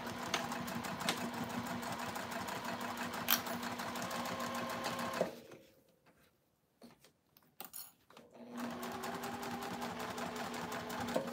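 A domestic sewing machine stitches through a thick, foam-padded seam, running steadily for about five seconds. It pauses briefly with a few clicks and handling sounds, then resumes its even whir.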